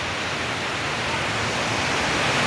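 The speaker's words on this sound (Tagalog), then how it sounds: "Lakas pa naman ang agos ng tubig." Loud, steady rushing of a strong water current at a dam in General Trias, Cavite, a dense unbroken roar filling the space with no pauses.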